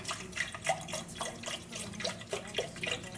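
Water splashes and trickles into a Breville milk frother jug, a close, quiet stream with uneven drips and small splashes, heard alone.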